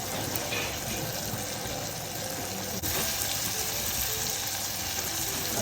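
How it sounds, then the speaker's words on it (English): Chicken and vegetables stir-frying in a pan for katsu curry give off a steady, loud sizzle and hiss that carries on without a break, alone and with no talking. "The reason why I'm stir frying the chicken and the vegetables is to make sure that the chicken is well cooked"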